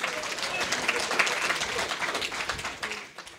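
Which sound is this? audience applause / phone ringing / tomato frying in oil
audience applause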